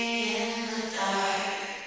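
A sung vocal drenched in a large, washy reverb set to 100% mix, the tail smearing and lingering so the voice sounds distant and cavernous.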